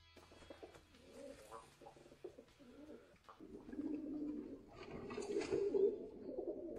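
Trumpeter pigeons at a pigeon show coo softly and repeatedly, with low rolling calls overlapping from several birds nearby and growing fuller toward the end.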